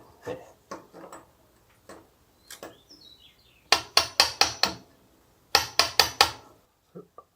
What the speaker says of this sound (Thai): แล้วผมก็จะใช้ค้อนกับสกัด เพื่อเอามาปรับให้มันได้ตำแหน่งตรงนะครับ